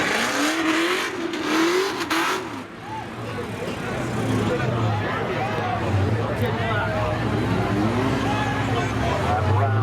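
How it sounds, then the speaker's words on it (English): At a spectator drag event at Seekonk Speedway, race cars including a Dodge Stealth and a Pontiac idle and rev at middle distance under a loud announcer and crowd babble, with engine pitch rising and falling repeatedly. "Joe DeFarius from Fulton, Mass. in the Dodge Stealth"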